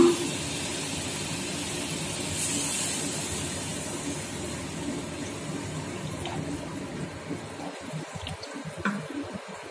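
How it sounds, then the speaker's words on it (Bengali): Water poured into a pan of fried spice paste for a Bengali vegetable curry, giving a steady rushing, sizzling wash that fades toward the end, with no talk. "এখন আমি জল দেব।"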